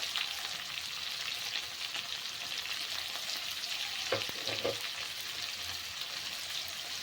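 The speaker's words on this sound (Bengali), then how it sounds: "দিয়ে ভালো করে একটু কষিয়ে নিতে হবে দিয়ে দেব হলুদ গুঁড়ো" Cabbage sautéing with turmeric powder in a pan with tomato, a steady close frying hiss with a couple of brief stirring scrapes partway through, no talk.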